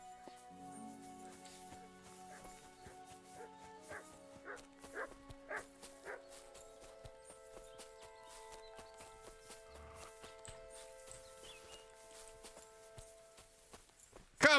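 Barks from the dog Mutt in a video game, short yelps rising over steady game music and ambience at moderate level, several spaced calls in the middle of the stretch, no talk over them.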